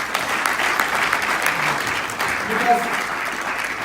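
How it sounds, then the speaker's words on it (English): An audience at a mentor-of-the-year award ceremony applauds the mentors: sustained clapping throughout, with a voice speaking over it. "I think all the mentors should get a round of applause."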